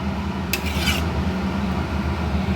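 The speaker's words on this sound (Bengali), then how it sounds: "এবার আমি ঢাকনাটা খুলে নিলাম।" A lid comes off a pot of vegetable curry on the stove in one short metallic scrape and clink, heard close over a steady low kitchen hum, with no talk.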